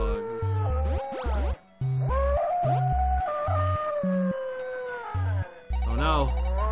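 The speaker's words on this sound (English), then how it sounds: "Oh, it's the dog. There's the dog." A dog howls in a long, wavering, rising and falling cry in the horror film Manos: The Hands of Fate, over eerie music and layered with other tones, close and fairly loud.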